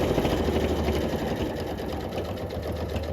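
A sewing machine stitches a fabric potholder with a mitered corner, giving a close, steady run of rapid needle clatter that hums along for a few seconds without pause or speech.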